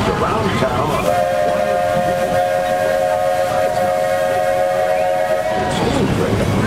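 Walt Disney World Railroad steam train sounding one long, steady whistle blast that lasts several seconds over a rumbling background of train and crowd noise.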